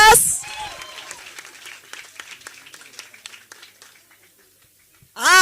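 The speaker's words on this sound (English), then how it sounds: "let's give them a round of applause" Applause from the audience at a symposium and moot court competition, scattered claps tapering off over several seconds after a loud voice at the start, with another voice cutting in at the end.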